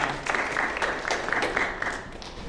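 An audience at an experimental music ensemble concert applauds steadily, a moderately loud patter of many hands clapping for a few seconds.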